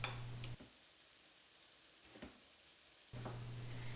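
Chopped garlic sizzles in a pan during Turkish meal prep, a faint, steady hiss with a low hum and a couple of soft clicks; no one speaks.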